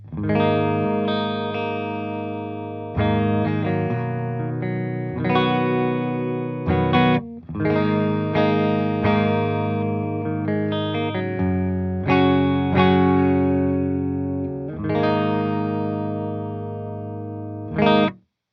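Clean electric guitar tone played through a VLD1 Legacy Drive pedal: ringing chords and arpeggiated notes, each strummed chord sustaining and decaying before the next, a steady rhythmic progression with a pause near the end.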